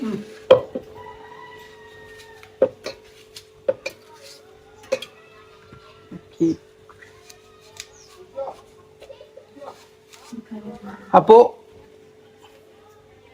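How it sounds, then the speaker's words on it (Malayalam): An apple is chopped into small pieces for juice on a home kitchen counter, giving a string of sharp, irregular knife taps with light utensil clatter. Voices talk over and between the cuts. "കഷ്ണമായിട്ട് അരിയണം."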